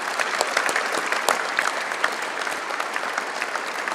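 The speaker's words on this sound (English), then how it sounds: "A warm applause, please" A seated audience at an award ceremony claps warmly and steadily, a dense sustained patter of many hands filling the hall at moderate loudness without cheering.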